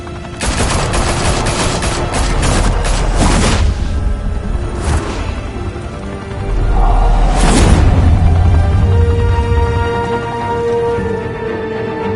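Video game gunfire crackles in loud, sustained automatic bursts and fusillades, with sharp cracks at intervals and a heavier rumbling barrage midway, and no voices over it.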